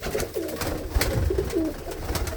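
Pigeons in a breeder's collection of expensive birds coo close by, several overlapping low throaty calls repeating through the short stretch, with no talk.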